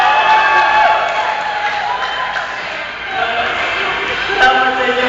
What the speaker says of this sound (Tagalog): Salamat sa inyong palakpak.